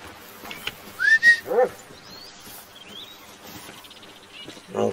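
Hunting dog in theHunter: Call of the Wild, a few short whines and yips near the start and one more at the end, with whistle-like tones and quiet game ambience between.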